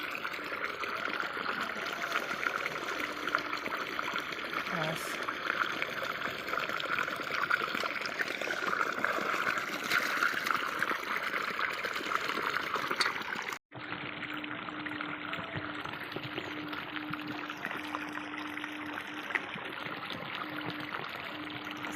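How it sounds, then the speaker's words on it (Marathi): Hot water pours and splashes steadily over meat being washed for about twenty seconds, broken by one brief cut, with a low hum running under the second part. "गरम पाणी याच्यात टाकायचं"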